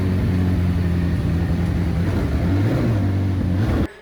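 A McLaren 720S engine with a newly fitted aftermarket exhaust runs at a steady idle, a deep loud droning rumble with slight pitch wavers, cutting off abruptly near the end.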